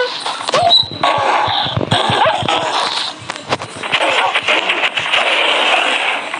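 A Minecraft dog whimpers and yelps as it is killed in a busy game scene, its short, high cries loud and mixed with other game sounds.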